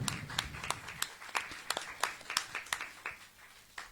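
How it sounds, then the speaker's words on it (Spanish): Sparse, scattered clapping from a small audience at a book presentation welcoming guests, individual claps distinct and uneven, fairly quiet, with a little murmur at the start. "a quienes damos la bienvenida con un fuerte aplauso"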